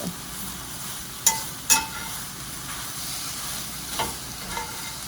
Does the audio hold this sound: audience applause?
no